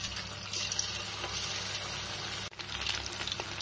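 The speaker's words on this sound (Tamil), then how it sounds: "பாருங்க, சூப்பராக ஃப்ரை ஆயிட்டு இருக்கு." Soya chunks with curry leaves frying in hot oil for soya 65, giving a steady close hiss and crackle of sizzling that continues on its own with a brief dip midway.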